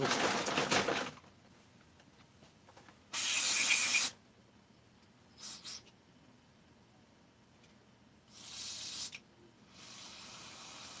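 Three short bursts of hissing aerosol spray, each a second or less, separated by quiet pauses, with a few faint clicks between them.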